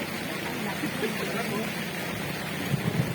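Wind and water rush around a boat carrying a group along the coast near Anguib beach in Santa Ana, Cagayan, in the rain, a steady broadband roar with a few low thumps near the end.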